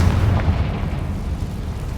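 A Confringo spell explosion bursts in the Hogwarts Legacy game, a loud, close blast with a heavy low boom that rumbles and slowly fades over about two seconds, with no talk.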